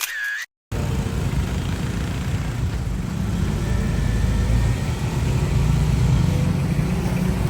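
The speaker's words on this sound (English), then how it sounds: "Mercedes S-Class Maybach Edition S580" A Mercedes-Maybach S580 luxury sedan rolls past with a low, steady engine and tyre rumble that swells slightly toward the end. A short click comes at the start.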